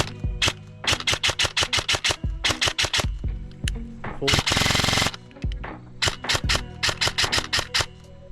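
A Specna Arms airsoft rifle with a GATE Titan V2 gearbox firing, loud close rapid clicking shots in quick bursts plus one sustained full-auto burst, separated by short pauses.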